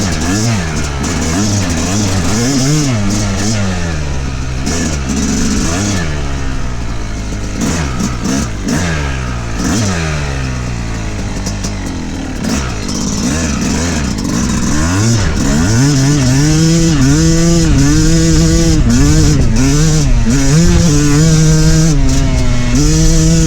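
A Yamaha YZ250X two-stroke dirt bike revs hard while being ridden, its engine note rising and falling in repeated throttle blips and sustained high-pitched revving, loud and close throughout.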